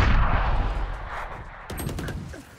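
Rapid machine gun fire in the shooter game Valorant, a dense loud burst of shots running continuously, then a second burst after a brief break, with no voices.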